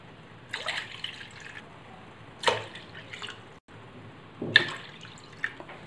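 Four cups of water are poured into a bowl while juice is being made in a home kitchen, coming as a few separate splashing pours with short gaps between them, close and clear.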